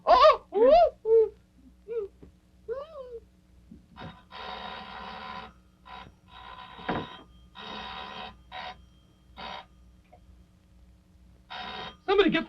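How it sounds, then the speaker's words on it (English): Old telephone bell ringing in a puppet television show, several short bursts of ringing spaced apart, coming after excited voices and clear in the quiet between them. "Somebody get the phone, for heaven's sakes."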